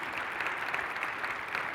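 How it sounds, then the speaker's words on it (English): Audience applause for Director Roos and the Eagle team at the Mi Healthy Climate Conference: a dense, steady wash of many hands clapping at once, fairly soft and distant throughout. "Can we please give Director Roos and the entire Eagle team a round of applause?"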